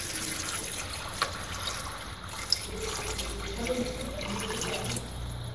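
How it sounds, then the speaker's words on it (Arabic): Water runs steadily from a kitchen tap while a plant-based meal is being cooked, a soft continuous splashing with a couple of faint clinks over it. "غادي نزيد واحد شويه ديال الماء"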